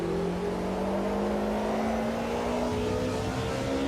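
Race car in a DTM racing video game, on the Estoril circuit, with a steady engine drone whose pitch slides as it brakes and revs. The sound is loud and continuous, with no talking.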